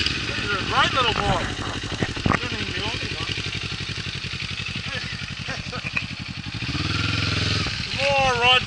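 A Kawasaki Ninja 400 fitted with an Akrapovic full exhaust system and carbon pipe rides by, its engine rising and falling in sharp revving sweeps over a steady mid-pitched drone, loud and close throughout.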